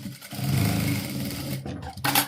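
Sewing machine running briefly while stitching the lower seam of a two-tuck blouse, a close steady mechanical whirr lasting about a second and a half, then a short burst near the end.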